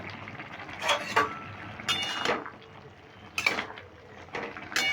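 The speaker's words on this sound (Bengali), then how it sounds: "এবার আমি ঢাকাটা খুলে নিচ্ছি" Metal clatter as a lid comes off a pot of simmering ash gourd curry with lentil dumplings and poppy seed, a few short clanks and scrapes close by with no voices.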